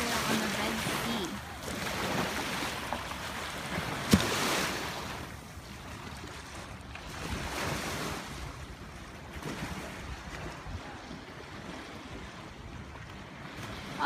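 Ocean waves wash onto the Red Sea shore at Eilat, in Israel's far south. Soft swells of surf rise and fall over gusts of wind noise at a moderate distance.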